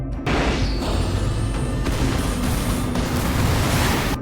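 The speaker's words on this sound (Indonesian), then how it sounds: "Serangan diawali oleh robot sayap Harmony dengan menembakkan rudal balistik" Ballistic missiles launched by a winged robot strike and explode in an anime battle, a loud, dense, continuous roar of blasts and crashing debris filling the whole stretch.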